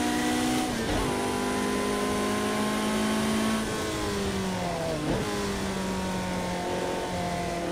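A Ferrari 458 engine in Project Cars 2 screams up through the gears at high revs, with sharp shifts and pitch drops as it accelerates and slows.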